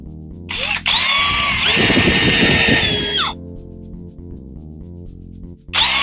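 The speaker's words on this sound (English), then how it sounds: "I'm just going to throw some little 1-inch screws in here" A power drill driving small 1-inch screws into a wooden door frame: two loud, close whirring bursts, the first lasting about two and a half seconds with grinding bite as it seats, the second starting at the end, with a quieter gap between.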